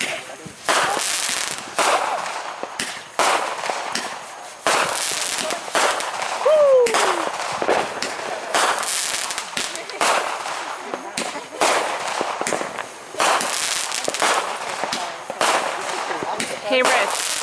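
Fireworks at a 2015 show being shot off nearby, a dense, loud run of crackling bangs and rapid popping bursts that barely pauses, with a brief whistling rise partway through and voices faintly underneath.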